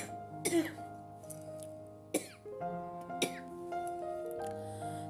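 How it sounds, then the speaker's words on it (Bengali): A woman at home coughs hard several times, three sharp bursts spaced a second or so apart, close and loud over a steady background hum. "দেখছো কাশি পেয়ে গেছে প্রচণ্ড"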